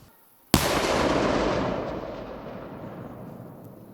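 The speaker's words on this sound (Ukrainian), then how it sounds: "Вибух!" A single sharp, powerful blast from a police bomb squad's controlled explosion of ordnance in Sumy region, Ukraine, bursts out after a short silence, then a long rumbling roar slowly fades away.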